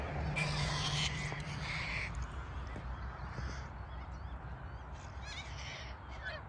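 A flock of corellas screeches harshly overhead in Gympie, Australia, raucous calls overlapping in bursts against steady outdoor background noise.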